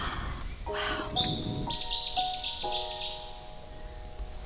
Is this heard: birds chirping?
yes